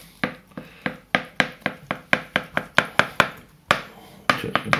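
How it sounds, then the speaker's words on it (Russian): A knife chops boiled egg whites finely on a board, about twenty crisp, evenly spaced strikes close up, with a short pause before the rhythm resumes. "дальше нам надо будет порубить наши белки"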